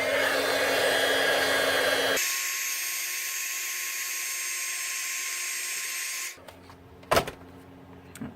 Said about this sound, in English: and now we'll heat set that.